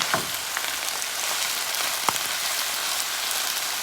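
Kale sizzles with garlic in a frying pan, giving a steady, bright hiss with a few sharper pops and a faint stir, close up and with no talking.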